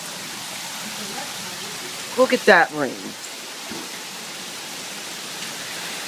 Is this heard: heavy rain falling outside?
yes